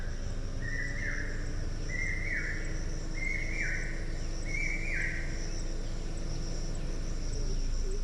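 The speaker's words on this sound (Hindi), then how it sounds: "जंगल में चिड़ियों की आवाज।" Birds sing in a forest on a campus, four evenly spaced rising chirping phrases standing out over a steady insect drone and faint background hum, no voices.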